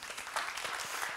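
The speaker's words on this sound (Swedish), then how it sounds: "En applåd." An audience claps to welcome a speaker at an internet conference panel, with a dense, even patter of many hands lasting throughout.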